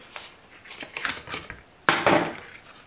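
Cardboard outer packaging of a Moïra Cosmetics eyeshadow palette being opened up close, with a run of scratchy rustles and creaks followed by a louder, sharper tearing crackle near the end.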